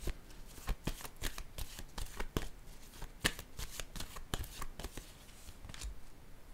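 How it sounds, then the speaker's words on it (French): Tarot cards are shuffled and laid down in quick, crisp riffles and snapping flicks, a close, busy run of papery slaps and ruffles that continues throughout without speech. "Je vais déposer une autre carte"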